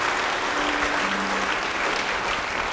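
A church congregation applauds together during a sermon, a steady, dense wash of clapping that fills the whole moment without pause.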